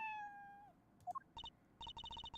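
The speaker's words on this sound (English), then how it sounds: "Hey, a kitty cat." Two short meows from a cat in the video game Apollo Justice, followed by a quick burst of repeated chiming game text blips; no voices are heard.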